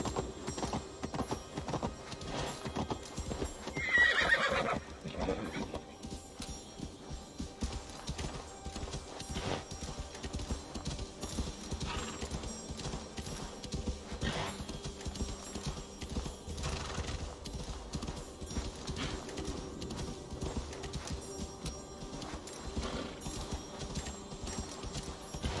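Horse hooves clip-clopping in a steady rhythm in the video game Assassin's Creed Valhalla, with a whinny early on, fairly faint and continuous over quiet game ambience.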